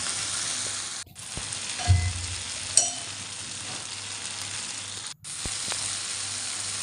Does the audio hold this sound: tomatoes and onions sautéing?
yes